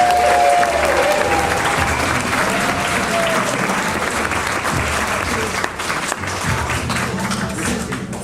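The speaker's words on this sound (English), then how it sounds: "Everyone, please give a round of applause for Dick and Renee Bartz." Wedding guests applauding the groom's parents at a reception, loud sustained clapping from a large group close by, with scattered cheers, easing slightly toward the end.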